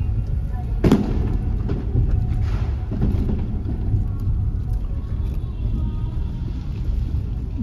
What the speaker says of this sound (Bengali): শুনতে পাচ্ছেন তো? রীতিমতো বোম ফাটছে।